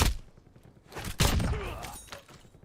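Pistol fire in a video game comes as a few sharp, punchy shots and impacts at irregular spacing, close and loud, with a bit of clattering action between them.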